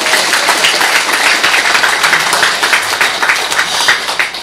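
Loud audience applause at a book launch event, a dense steady burst of clapping with scattered sharp claps throughout.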